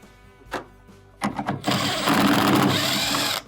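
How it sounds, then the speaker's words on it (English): A few clicks and brief whirs, then a power drill spins up and runs steadily for about two seconds, loud and close, as screws are backed out of a refrigerator door hinge. "we are going to use your drill to start to remove the screws"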